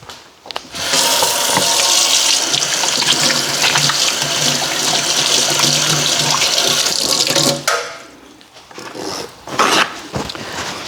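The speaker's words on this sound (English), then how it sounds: "I'll wash my hands." Tap water runs steadily into a sink while hands are washed beneath it, a loud continuous gush for about seven seconds before the flow cuts off, followed by faint splashing and dripping.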